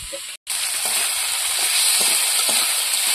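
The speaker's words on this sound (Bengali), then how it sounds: "এবার ভেজে রাখা কাঁকড়াগুলো দিয়ে দেবো।" Fried crabs dropped into a pan of tamarind sauce set off a loud, steady sizzle and hiss, continuous after a brief gap near the start.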